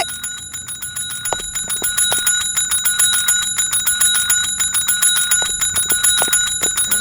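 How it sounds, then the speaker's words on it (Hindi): A small police station hand bell is struck over and over in a fast, steady rhythm, each ring bright and metallic with a lingering tone, loud and close, no voices. "थाने का घंटी है वो, मंदिर का घंटा नहीं है कि आप बार बार बजाएंगी"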